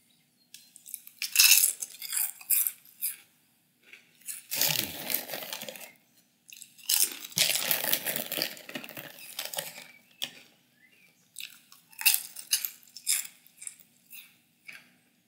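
Someone eats small, not too sharp, one-note crisps up close. Short bursts of crunching and chewing come in irregular clusters, separated by quiet gaps.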